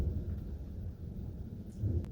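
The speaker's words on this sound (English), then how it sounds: "So we might hear a little thunder" Low thunder rumbling on a summer evening under a tornado watch in Maryland, a steady, muffled roll that swells toward the end, with no voices.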